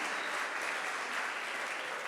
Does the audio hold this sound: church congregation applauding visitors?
yes